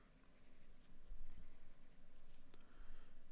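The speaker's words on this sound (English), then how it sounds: "Let's switch to a B pencil" A B pencil scratches softly across paper while a mountain drawing is shaded, a faint continuous stroking with slight rhythmic swells.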